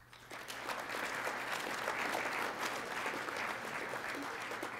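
An audience at a Martin Luther King Jr. birthday breakfast claps its hands in a sustained, moderately distant burst that swells quickly after a brief start and stays steady to the end.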